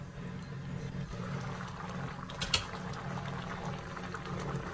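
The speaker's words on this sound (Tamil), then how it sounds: "சலசல சலன்னு கொதிக்குது" Steady bubbling of thick tomato kurma gravy simmering in a pot, a continuous low churning with a couple of brief pops, no voices.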